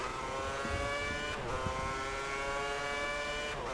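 A Formula 1 car in the video game F1 2010 screams through a qualifying lap at Malaysia, a steady high-pitched engine whine with rising gear harmonics and brief dips at two upshifts, loud and continuous.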